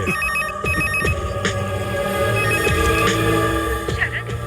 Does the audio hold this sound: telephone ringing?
yes